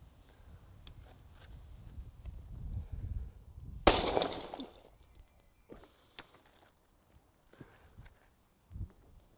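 A sheet of toughened glass is smashed in a glazing strength test for log cabins, giving one sharp, loud crack and a brief shattering burst amid quieter handling noises and scattered debris sounds afterward.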